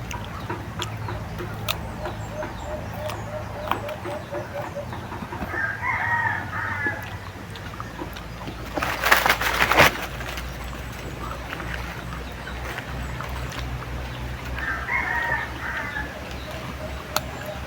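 Roosters crow a couple of times at a distance, with occasional clucking and outdoor background noise in between.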